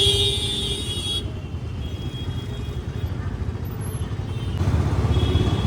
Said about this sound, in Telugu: ట్రాఫిక్ జామ్ ఉంది అంతా ఇక్కడ.